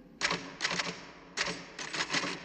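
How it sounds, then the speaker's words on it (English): Quick bursts of typewriter keystrokes clatter in two rapid clusters, crisp and close, with a brief pause between them. "Whenever I'm in here, you hear me typing"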